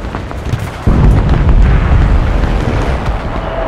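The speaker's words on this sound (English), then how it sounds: "Artillery support!" An artillery strike in the game Enlisted hits with a sudden loud boom, followed by a heavy, sustained rumbling roar of explosions and debris that slowly eases off.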